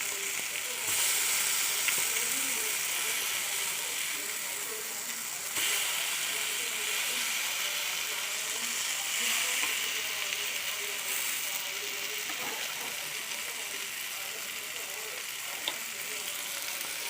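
Spicy dam fish fries in a pan of hot oil, a steady bright sizzle with crackling pops running throughout, close and fairly loud, with occasional scraping clicks.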